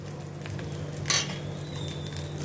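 Crushed coriander seeds and fennel sauté over a low gas flame, giving a faint, steady sizzle with one brief scrape of a spoon against the pan near the middle.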